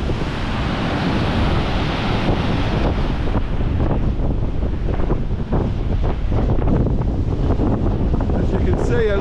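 Strong gusty wind buffets the microphone on a beach with surf, a loud continuous roar of wind and breaking waves throughout, no voices.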